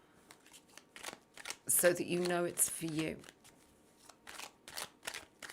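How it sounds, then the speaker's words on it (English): A tarot card deck riffled and shuffled in two quick bursts, with a person talking quietly before and after. "So let's shuffle this deck several times."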